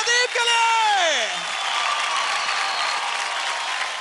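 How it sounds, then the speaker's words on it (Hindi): Studio audience at a televised dance competition applauding for the dancer Pradeep after his performance, a loud broad wash of crowd noise that starts with a falling whistle-like tone and then continues steadily. "तालियां प्रदीप के लिए।"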